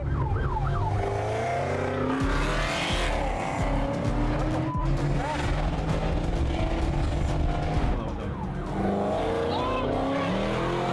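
A car driven fast in sport plus mode roars along with a loud revving engine and squealing, sliding tires that rise and fall throughout, while people talk over it.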